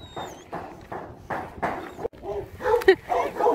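Chow Chow dogs bark in a series of close, repeated woofs outdoors in a residential neighborhood, with voices mixed in among the barks.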